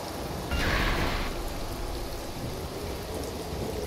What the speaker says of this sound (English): Rain effect is simple, but I mean, does the job.